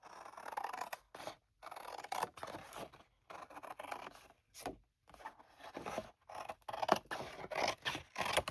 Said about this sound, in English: I'm going to cut this edge off